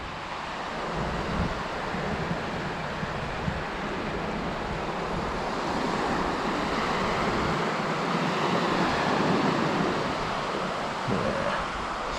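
Wind blowing from the west across a beach by the sea, a steady, loud roar of gusts buffeting the microphone, mixed with broad surf-like rushing, continuous and with no talking.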